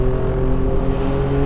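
An Alfa Romeo Giulia Quadrifoglio on a race track, its engine droning loud and steady under full throttle, a sustained close roar with no break.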